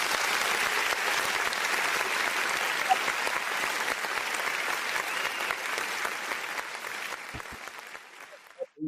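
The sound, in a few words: applause sound effect from button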